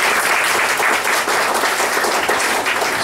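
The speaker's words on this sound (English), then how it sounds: "give him another round of applause" Crowd applause at a grand opening celebration in Koreatown, a sustained, dense, loud roar of many clapping hands filling the whole stretch without a break.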